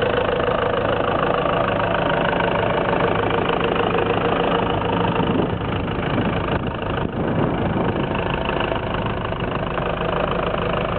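A three-litre turbo diesel engine in a 2000 Isuzu Bighorn idles steadily and close, a smooth continuous rumble with a brief dip in the middle and no talk.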